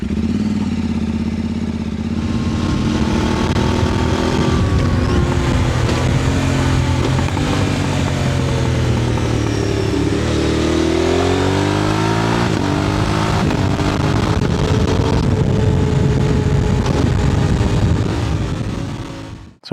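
A motorcycle is ridden continuously, with a loud, close engine drone that rises and falls as it accelerates and changes gear. Wind rumble runs throughout, as picked up by a clip-on microphone in a rider's back pocket.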